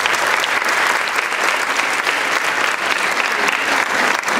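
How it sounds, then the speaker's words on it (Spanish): Audience applause at a sixth-grade school graduation ceremony, a steady, dense wash of many hands clapping that holds evenly for the whole stretch without pause. "Brindemos un fuerte aplauso."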